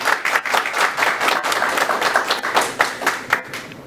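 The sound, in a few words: audience applause welcoming a speaker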